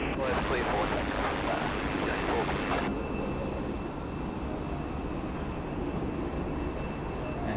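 At Sydney Airport, a jet taking off from runway 34 left produces a steady, broad rumble heard from a distance, fairly faint and continuous throughout.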